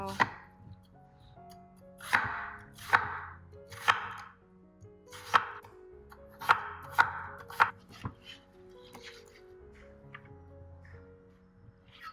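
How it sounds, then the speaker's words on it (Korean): A knife slices an onion on a cutting board in a run of sharp, uneven strokes, close and clear, with no talking. "양파 한 개도 반으로 자르후 결대로 썰어서 냄비에 넣어주시고"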